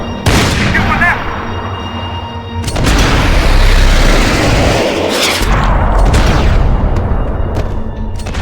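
Heavy gunfire in the video game Max Payne 3 booms and cracks in a dense, loud burst, with a brief lull before a sustained fusillade of shots and impacts.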